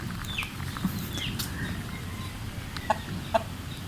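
A rooster clucks faintly a couple of times against steady outdoor background noise, with a few distant bird chirps.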